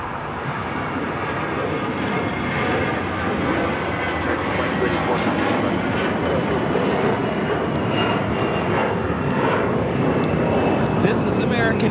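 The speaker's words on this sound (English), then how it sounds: "This is American Airlines 2284 taking off to Miami, Florida on the A321." An American Airlines Airbus A321 taking off from LAX bound for Miami, a broad steady engine roar that holds loud throughout, with people talking over it.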